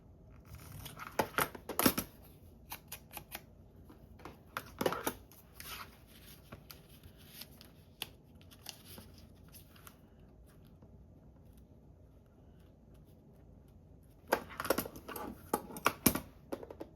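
Scissors snip through grungy craft tape in bursts of sharp, crisp cuts near the start and again at the end, with a quieter stretch of faint handling and rustling in between.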